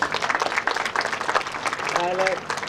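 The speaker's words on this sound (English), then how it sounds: "give a big round of applause." A school career fair audience gives a round of applause, irregular bursts of clapping from many hands with a brief voice or tone rising over it near the end.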